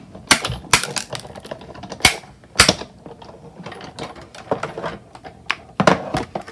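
A paper card inside an embossing folder is cranked through a manual embossing machine, giving a series of sharp mechanical clacks and ratcheting thunks at irregular intervals, fairly close and clear.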